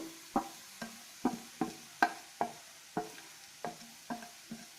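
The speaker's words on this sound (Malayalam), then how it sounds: "എല്ലാം ഇട്ട് നന്നായിട്ട് വഴറ്റിയെടുക്കുക" Prawn masala with turmeric, coriander and chili powder is sautéed, a spatula striking the pan in a steady rhythm of about a dozen sharp scrapes over a faint sizzle.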